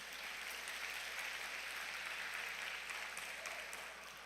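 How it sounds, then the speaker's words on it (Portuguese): A church congregation claps together in steady, dense applause that fills the room at even strength, easing slightly toward the end, with no talking over it. "Dê um aplauso a Jesus."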